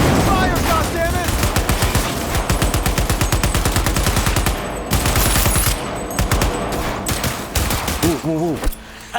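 Loud, sustained automatic gunfire in a video game firefight, with rapid bursts rattling continuously over several seconds and shouting voices mixed in.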